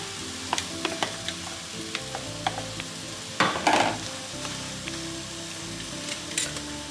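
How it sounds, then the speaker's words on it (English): Runny eggs and rice sizzle in a pan for Mamee Monster nasi goreng, a steady frying hiss broken by light scraping stirs and one louder burst of sizzle midway, with no voices. "While it's still a little bit runny, the eggs, I'm gonna put in the rice."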